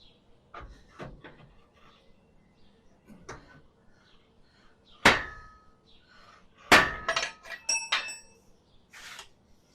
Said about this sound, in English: A few good swipes of the hammer,